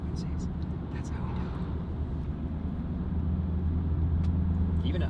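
A BMW N55 engine with a Valvetronic valved sport exhaust, valve closed in comfort mode, gives a steady, subdued low rumble close by from inside the car while someone talks over it.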